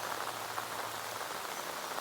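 Steady rain falls in the Konkan countryside at the onset of the monsoon, producing an even, dense hiss of drops on surfaces with no talk.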